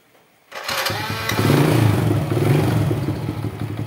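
An old Honda Supra Fit motorcycle fitted with a double starter gear cranks and fires on the electric starter, then idles loudly and steadily up close for several seconds.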